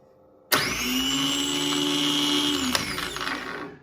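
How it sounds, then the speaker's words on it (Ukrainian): A 24 V gear reduction tractor starter motor, a 5.0 kW Jubana unit for MTZ D-240/D-243/D-245 engines, kicks on abruptly on a test bench. It gives a loud, steady high-pitched whine for about two seconds, then cuts off and spins down. "24 вольта у нас даний стартер. Запускаємо його."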